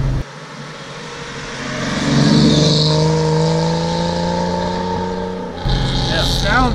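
A 1955 Mercedes 300SL Gullwing engine pulls up through the revs from inside the cabin, its rising tone swelling and then easing off, with a brief shift of sound near the end.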